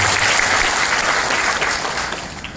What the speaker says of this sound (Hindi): चलिए संस्कृति के नाम से एक बार जोरदार ताली बजा दी।